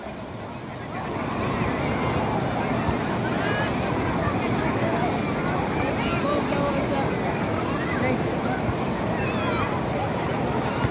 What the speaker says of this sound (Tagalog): Ayun, nag-high tide na.